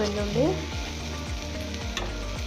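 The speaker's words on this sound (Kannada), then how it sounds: "ಈ ರೀತಿ ಚೆನ್ನಾಗಿ ಫ್ರೈಯನ್ನು ಮಾಡ್ಕೊಳ್ಳಿ" Chopped okra frying and being stirred in a pan over low heat, a steady sizzle with repeated scraping strokes of a spatula roughly every half second, close up and with no voices.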